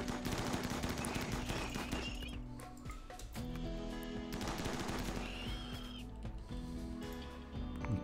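Gunfire from raiders in the colony game RimWorld rattles in rapid bursts over layered game music, fairly quiet and continuous through the clip.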